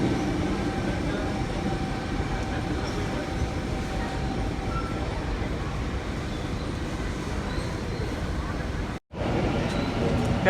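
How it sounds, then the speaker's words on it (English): A passenger train pulls into platform 3 at Parramatta station, a steady rumbling roar of wheels and rail running throughout with faint platform murmur, broken by one brief dropout near the end. "A66 arriving on the platform number 3."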